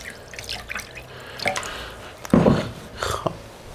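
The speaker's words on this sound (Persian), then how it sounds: "خب یه مقدار دیگه هم آب اضافه میکنیم که بیاد روی ماهی." Water is poured into a pot over fish for a Gilan-style fish stew, with a few trickles and drips and then a brief splashing gush close by.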